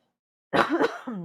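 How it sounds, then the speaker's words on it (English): A single harsh cough bursts out after a short silence, followed by a brief throaty vocal sound. "Sorry about the cough, guys."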